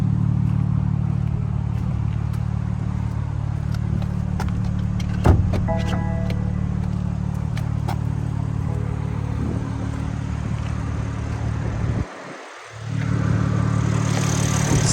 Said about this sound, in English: the BMW S58, 3-liter inline 6 twin turbo engine.